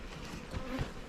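Honey bees buzz in a dense, continuous hum at the entrance of a healthy backyard hive, close and steady with no voices.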